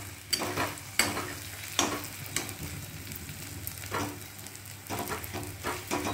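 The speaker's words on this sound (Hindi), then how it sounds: "अच्छे से मिक्स करिए और इसको मध्यम आंच में चलाते हुए भूनते जाना है।" Potato halwa is stirred and roasted over medium heat in a pan, giving a soft steady sizzle broken by repeated scraping strokes of the spoon at irregular intervals, close up with no talking.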